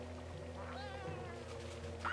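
A cat in the video game Bowser's Fury gives a single drawn-out meow over a steady low game background hum, followed near the end by a short bright chime.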